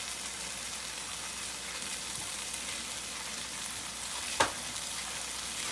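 Onions frying with turmeric for a British Indian restaurant base gravy, a soft steady sizzle throughout with one brief sharp clink of a utensil against the pan near the end.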